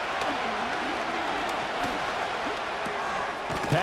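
A roaring stadium crowd in the Madden NFL 25 football video game, rising as fans try to force a false start on third and inches, a steady broad wash of noise with faint thumps throughout.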